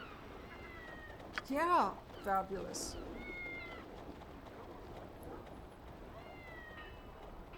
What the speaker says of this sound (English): I love how you can hear the cats even outside.